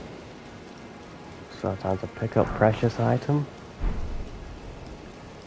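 Steady rain hiss fills the background in Elden Ring at Morne Castle, a constant soft wash throughout while someone talks briefly over it.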